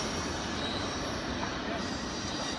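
A Norfolk Southern freight train, number 237, crosses a bridge near Mt Airy, Georgia. It gives a continuous rumble of rolling railcars with high wheel squeal, steady and moderately distant.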